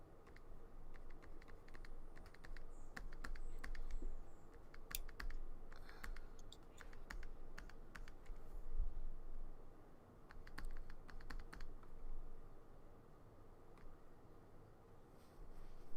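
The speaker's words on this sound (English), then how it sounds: "I was typing." Rapid clicking of a computer keyboard in steady bursts, close by, with short pauses between runs of keystrokes over a low background hum.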